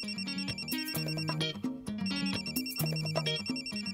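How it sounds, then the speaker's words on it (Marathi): A phone rings with a melodic electronic ringtone that repeats its short pattern steadily and loudly for the full length, with no voices over it. "फोन घे ना"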